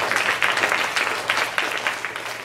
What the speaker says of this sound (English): what I usually ask people to do when I do this is to clap for a minute